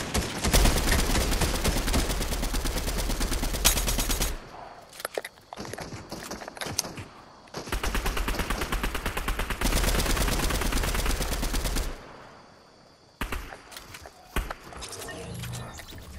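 Gunfire in the Fortnite video game, with dense rapid bursts of shooting in long loud stretches, broken by quieter gaps with footsteps and scattered single shots.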